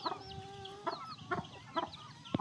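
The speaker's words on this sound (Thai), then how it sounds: "ไก่ตัวเมียนี่ไก่สาว" A young hen clucks close by in a farmyard, giving a series of short, throaty clucks at a steady, unhurried rhythm.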